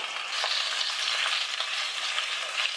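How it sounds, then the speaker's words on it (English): Pork ribs sit browning in hot oil in a pot, giving a dense, crackling sizzle that stays close and even with faint popping throughout. "Just let it sit in the hot oil and stir occasionally."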